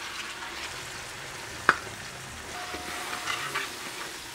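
Small shallots frying in oil for a quail roast, with a soft, even sizzle throughout, one sharp clink around the middle and faint stirring noises after it, close and fairly quiet with no speech.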